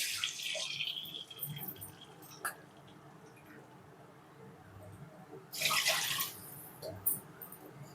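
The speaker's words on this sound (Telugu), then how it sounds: "అదే కప్పుతో రెండు కప్పులు వాటర్ వేసుకోవాలి" Water is poured from a cup into a kadai on the stove for making semiya kesari, with a soft splash at the start and a louder gush of pouring later, quiet and close.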